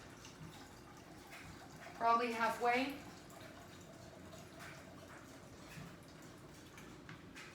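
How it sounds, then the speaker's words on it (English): Berkey-filtered water pours into a cooking pan in a brief gurgling splash of about a second, set against quiet room tone, with a voice speaking nearby. "So this is my Berkey water. I've got it nice and full. I'm going to fill the pan up"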